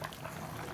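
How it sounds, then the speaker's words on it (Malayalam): Meat curry simmering in a covered pot, bubbling steadily and continuously at close range in a short, even burst of boiling with no talk. "മോളെ അങ്ങനെ ഇതാ നല്ലോണം തിളച്ചിട്ടുണ്ട്."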